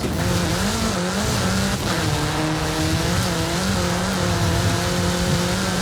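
A car races at high speed through the Mexican countryside in the video game Forza Horizon 5. The engine drones loudly and steadily, with a rising harmonic whine and no talking.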